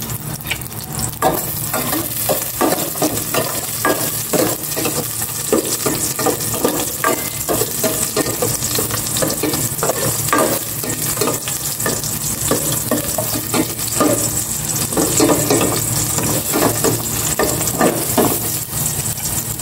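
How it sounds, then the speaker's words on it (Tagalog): Garlic sautés in hot cooking oil with a steady sizzle, broken by frequent scraping stirs in an uneven rhythm, loud and close, and no one speaks. "Gisa ko na itong bawang."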